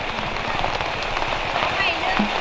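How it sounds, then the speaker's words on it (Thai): Steady heavy rain patters on surfaces outdoors during a street-side grilled chicken sale, a dense continuous hiss of drops with no pauses. "ฝนตกแล้ว"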